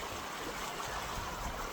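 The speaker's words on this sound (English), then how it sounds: "on the South Platte River here" The South Platte River flows high up at Fairplay, Colorado, as a continuous, close rushing wash of water with no other sounds over it.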